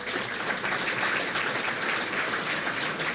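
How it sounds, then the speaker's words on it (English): Audience at a chamber of commerce State of the City event clapping for a county commissioner, a dense, steady wash of applause from a crowd, sustained throughout with no talking over it. "Let's give him a round of applause."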